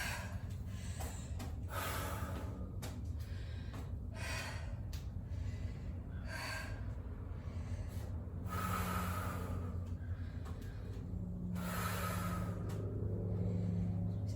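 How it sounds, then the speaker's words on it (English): Heavy, loud breathing after moderate-pace cardio in a shoulder workout: a steady series of deep, close inhales and exhales, some with gasping or snorting edges, and no talking. "Trying to slow down my breathing."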